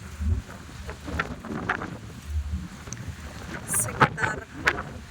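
On the deck of the KM Kirana 7 passenger ship at sea near Lombok, wind buffets the microphone in low rumbling gusts while a person talks throughout.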